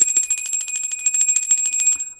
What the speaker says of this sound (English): We are going to ring your bell.